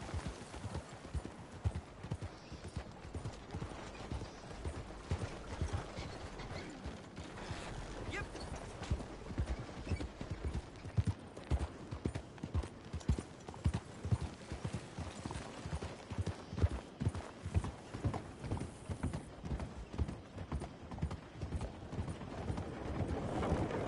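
Horse hooves clip-clopping at a steady riding pace in the Red Dead Redemption 2 video game, a continuous rhythmic patter with creaks of tack, quiet overall, with some speech.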